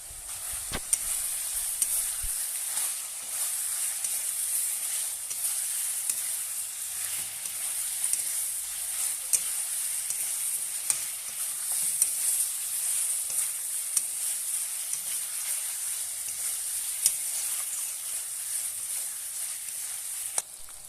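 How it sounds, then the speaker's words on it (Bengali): Onions sizzle in hot oil for a chicken and jackfruit curry as black pepper powder goes in, a thin, bright, continuous frying hiss with occasional small pops and stirring ticks, no talk. "পেঁয়াজটা ভাজা ভাজা হয়ে গেছে, এবার গোলমরিচ গুঁড়ো দিয়ে দিচ্ছি।"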